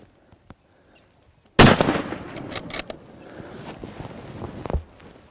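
A single sharp, loud rifle shot is fired at a crocodile on a hunt in Zambia, cracking suddenly out of near-silence and echoing away over open ground, with faint rustling afterward.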